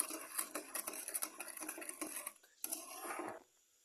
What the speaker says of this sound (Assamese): এইখিনি এতিয়া ভাল ধৰণে লৰাই দিম। এনেকৈ লৰাই থাকিম।